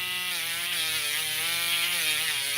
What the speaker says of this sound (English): I'm using this drill that I got from Temu.